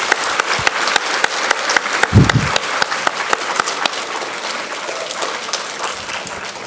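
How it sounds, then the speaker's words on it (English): An audience at a school awards assembly applauds second grade students. The clapping is dense and steady throughout, with a few louder close claps and a brief low thump near the middle. "Let's give a round of applause to our second grade friends."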